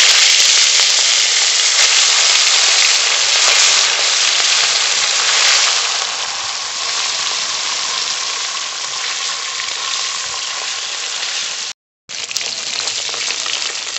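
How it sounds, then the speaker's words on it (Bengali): Pieces of katla fish fry in oil in a wok, a loud, dense, continuous sizzle close up, easing slightly after a few seconds with one brief cut near the end. "একটু হালকা হালকা করে ভেজে নেব।"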